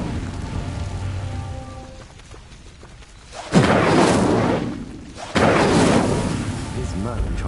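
Fire spell cast in Hogwarts Legacy lighting pyres: two loud rushing whooshes of flame burst up, the first a bit past halfway and the second a couple of seconds later, each roaring on steadily over quieter ambience.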